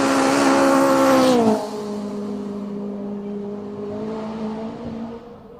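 A race car at the Simola Hillclimb 2022 King of the Hill event roars at full power, loud and close, its engine note sliding down in pitch before settling into a steady strained drone that fades slightly at the end.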